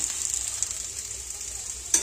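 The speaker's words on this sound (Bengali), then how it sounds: "ওই জন্য সবজিটাকে একটু ভেজে নিচ্ছি বেশি করে।" Vegetables, including pumpkin-vine stalks, fry in a home kitchen pan with a steady, close hiss and crackle that holds through the clip, ending with a brief louder clatter.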